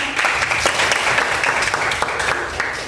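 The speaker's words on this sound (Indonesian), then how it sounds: "Terima kasih untuk Aisyah, tepuk tangan." A classroom of students applauds a classmate, a steady, dense patter of many hands clapping at close range for a few seconds.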